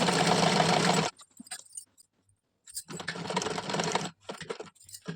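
A sewing machine stitches the crotch seam of a salwar in two close bursts, a loud whirring run, a pause with soft handling clicks, then a second run, with no voices.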